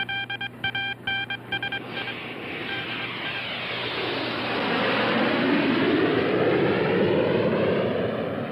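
A short run of electronic beeps gives way to the roar of Russian jet planes flying overhead, the sound building louder and fuller as they pass close by.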